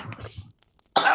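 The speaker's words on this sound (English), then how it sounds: "And you go into a coughing fit." A person, a tabletop role-playing player acting out a character waking up coughing, voices a brief coughing fit: a muffled bout of coughs, a short pause, then a loud, close burst of coughing.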